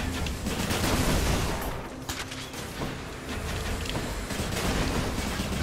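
Explosions in the video game Hades come as a dense, continuous barrage of loud bursts and crackling blasts that overlap with no pauses, with no voices.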